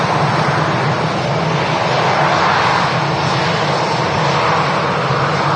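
An airliner in green livery with a shamrock on a rugby ball on its tail passes at an airport, a loud, steady, broadband engine roar sustained throughout without talk.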